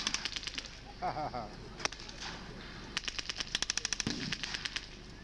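Bursts of rapid gunfire crackle at a military battle re-enactment, with quick strings of shots and single cracks ringing out at a distance under a steady background hum.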